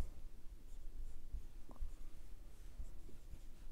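A marker writes on a board during an anatomy lesson on the brachial plexus, producing faint, quiet scratchy strokes in a hushed room with no talking.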